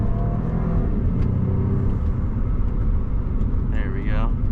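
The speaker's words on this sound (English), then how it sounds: "Some burbles. I don't know if you guys can hear that. It sounds crazy though. Here's a downshift." A twin-turbo car engine drones loudly from inside the cabin through a downshift, with rumbling exhaust burbles underneath and a brief whine near the end.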